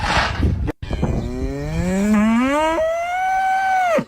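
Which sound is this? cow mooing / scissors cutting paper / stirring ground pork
cow mooing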